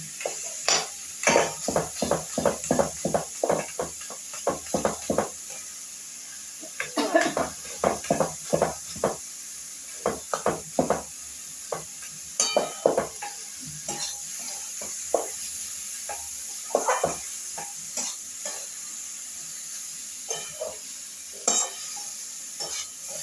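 Snakehead fish head frying with cabbage in a pan, a constant sizzling hiss broken by many sharp scraping stirs and clinks of a spatula, close and busy throughout.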